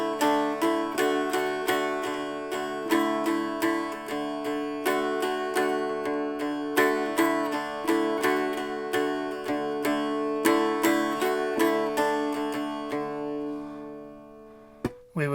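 Mountain dulcimer plucking the Mary Had a Little Lamb melody on one string over two steady drone strings, a bright even run of notes with constant droning beneath, played alone.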